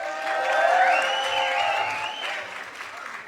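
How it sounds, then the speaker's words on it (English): Audience applause and cheering for the band at a live concert in the Howard Theatre, Washington, D.C., with a dense clapping wash peaking early and easing off, threaded with high whistles or tonal sounds above it. "Round of applause for the band, please."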